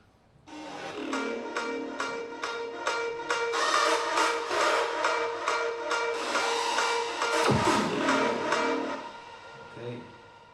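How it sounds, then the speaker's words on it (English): A dense electronic dance drop with bright, buzzing lead synths and squelchy acid lines hitting in a steady rhythm, loud and continuous. "here I have like the TV sound, acid sound, some lead power"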